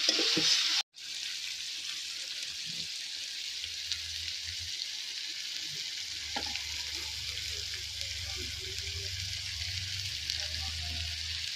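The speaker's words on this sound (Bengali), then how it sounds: "ভালো করে কষিয়ে নিতে হবে" Chicken curry is sautéed in a pan as chicken kosha, a steady hissing sizzle broken by a sharp thud early on, with a low rumble rising in the second half and no clear speech.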